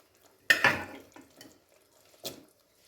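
Chickpeas tipped into a pan of hot oil and masala, then stirred: one sharp, close splash-sizzle, followed by a few scattered spoon scrapes and clinks against the pan, with no talking.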